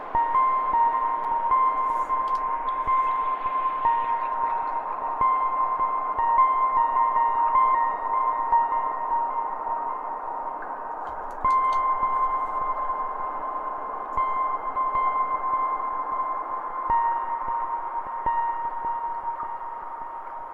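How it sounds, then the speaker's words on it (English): A steady, filtered synthesizer noise hums continuously with a tonal, sonar-like ring, holding at a moderate level throughout. "I'm also going to put on a filter on this noise."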